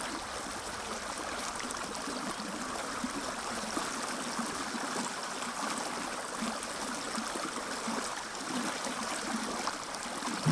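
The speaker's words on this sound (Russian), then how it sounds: "течение здесь действительно очень сильное" The Mrassu mountain river in Gornaya Shoria rushes past in a strong current, a steady, dense roar of flowing water that stays constant and fairly close throughout, with no voices.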